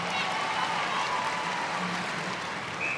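Crowd applause and cheering at an international netball match between Australia and Sri Lanka, a steady, dense roar filling the arena, with a commentator talking over it.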